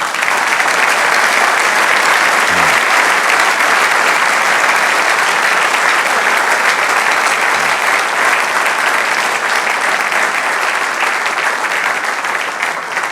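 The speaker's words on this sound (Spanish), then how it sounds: "Denle un aplauso al Señor." A church congregation breaks into loud, sustained applause, dense continuous clapping from a large crowd filling the room for several seconds without any speech.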